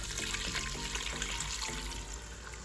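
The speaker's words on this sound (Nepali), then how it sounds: "अहिले चाहिँ मैले 1 जग पानी राख्दैछु" Water poured from a jug into a pot of goat feet broth being prepared for pressure cooking, a continuous close splashing gush lasting under three seconds.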